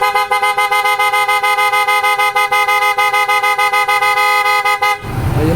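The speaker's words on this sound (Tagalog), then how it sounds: "So pakinggan muna natin mga boss yung tunog ng auto style horn." A PIAA OTO-style horn fitted to a Toyota Fortuner blares loudly in rapid repeated toots for about five seconds, a tight pulsing rhythm of bright tones that then stops abruptly.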